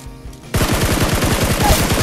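Rapid automatic gunfire erupts abruptly and continues in a fast, steady burst, loud and close, after a moment of quieter background.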